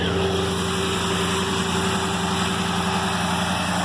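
A 1988 Camaro with its factory original 305 throttle body injected V8 idles with the muffler cut off, a steady, loud, raw exhaust rumble that holds unchanged throughout with no voices.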